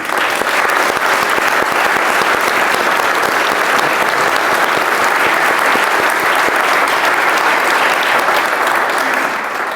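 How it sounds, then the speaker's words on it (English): Sustained audience applause inside a church hall during a question-and-answer event, dense and loud clapping from a large crowd continuing steadily for several seconds with no talking. "Please applaud them, actually."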